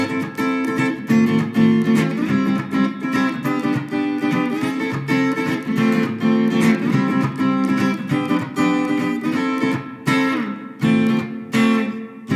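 A clean electric guitar plays chords and melodic lines with crisp plucked attacks, steady and fairly loud, with no voices.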